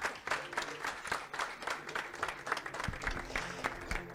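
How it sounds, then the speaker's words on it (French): A crowd at the Mister Universel France 2022 pageant claps for departing contestants, uneven and moderately quiet, with individual sharp claps standing out against background music. "On les applaudit bien fort."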